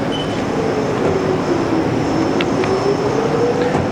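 Haas vertical machining center with a Renishaw part probe, chip auger and 24-tool side-mount changer, moving its Y axis: a steady, fairly loud servo whine with a faint rising drive tone and machine hum, no talk.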